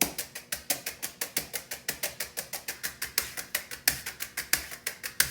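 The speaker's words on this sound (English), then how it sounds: "So here's the paradiddle." Drum brushes working through a steady paradiddle rudiment on a drum, a fast, even stream of crisp brushed strokes with subtle accents, close and moderately quiet, no speech.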